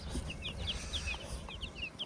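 Chicks on a village farm give soft, high peeping calls, a quick series of short chirps repeating close by over a low background rumble, with no talking.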